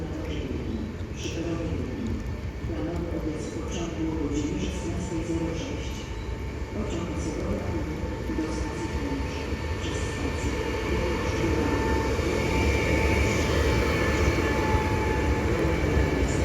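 An Elf 2 electric multiple unit train rumbles steadily nearby, its electric motors humming and slowly rising in pitch as it accelerates, with a voice talking over it.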